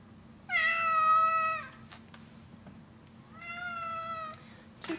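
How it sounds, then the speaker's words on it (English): A house cat meows twice, each call drawn out and clear, with a short pause between them, over a faint steady hum in an indoor room. "Sounds like the cat's ready for a stream."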